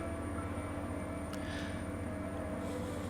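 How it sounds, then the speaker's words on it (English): Steady, loud droning roar of an airplane passing overhead, holding constant throughout with a low engine rumble and broad whoosh, no talk over it. "That plane is getting quite loud now, so I'm going to wait here for a second while it passes."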